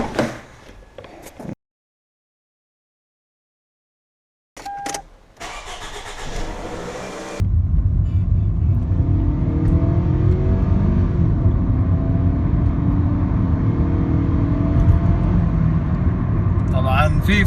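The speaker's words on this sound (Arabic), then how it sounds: "وخلينا نطلع نجرب السيارة." A car takes a test drive after its mass air flow sensor has been cleaned: a steady engine drone with road rumble, preceded by brief clicks and silence, with a voice over it.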